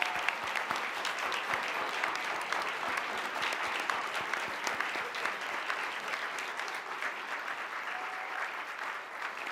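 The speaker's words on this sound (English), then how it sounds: "And let's give them a big round of applause." A large summit audience applauds people standing in the hall, a dense, sustained roar of many clapping hands that holds steady for several seconds before easing slightly at the end.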